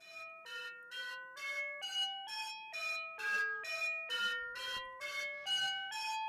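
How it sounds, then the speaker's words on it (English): Elements synthesizer module in blow mode, giving a breathy tone like air blown across a beer bottle, repeated as a sequence of short, evenly spaced pitched notes that step up and down, fairly quiet and alone. "it's actually more like blowing across the top of a beer bottle"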